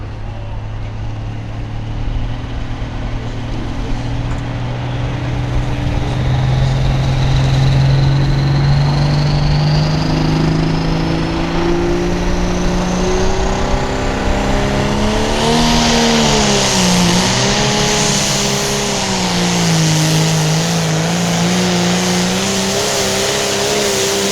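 A pulling tractor at a truck and tractor pull roars loud and close, its engine revving and climbing steadily in pitch over a long run, then wavering up and down, with a faint announcer voice beneath.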